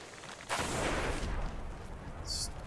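Sci-fi gunfire from the first-person shooter Destiny, with one loud burst of shots followed by a fading tail and a brief high electronic blip, all with no talking.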